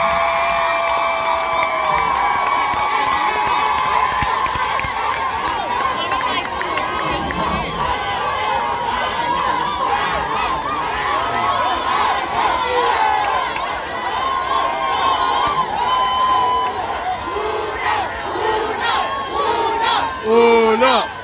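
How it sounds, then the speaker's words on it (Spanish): A large outdoor crowd at a mission fiesta dance contest in Baja California cheers loudly and without a break. Whoops and shouts rise over a continuous roar, with voices calling out throughout. "¡Aplausos!"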